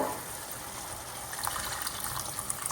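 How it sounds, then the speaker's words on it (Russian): Water being poured into a cooking pot of meat rosettes in sauce, a steady gushing fill lasting a few seconds, close and fairly loud with no talk. "Да, мы добавим немного воды."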